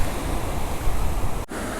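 Water overflowing and rushing near the Vellamalai tunnel in Valparai, a steady broad wash of flow close by, continuous with a brief dip near the end and no voices.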